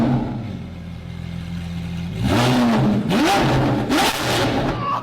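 A Lamborghini Aventador SVJ sports car idles with a low drone, then revs hard in three sharp rising bursts, loud and close, each blip snapping up and falling back, with crackling exhaust between.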